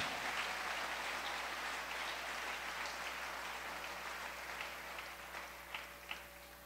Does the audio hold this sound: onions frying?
no